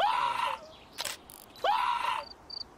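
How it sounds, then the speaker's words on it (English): A character in the video game We Become What We Behold lets out two short, strained screams separated by a brief pause, with small mechanical clicks and blips between them. "I didn't expect him to scream."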